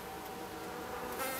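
Honeybees at an open hive during an inspection make a continuous, even buzzing hum close by, with no talk.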